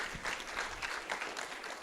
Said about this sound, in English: Can we get a round of applause for all of the mini sprint organizers?